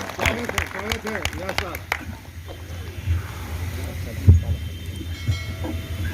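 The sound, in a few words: audience applause welcoming Sunil Vyas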